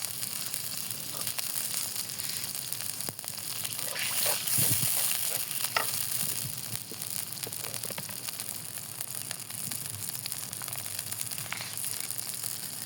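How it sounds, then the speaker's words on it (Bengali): A spice paste of ground cumin, ginger, mustard, garlic and coriander fries in a pan for a rohu fish head curry, producing a continuous soft sizzle with occasional stirring scrapes and clicks over about thirteen seconds. "এখন মশলাটা ভালো করে কষিয়ে নেব"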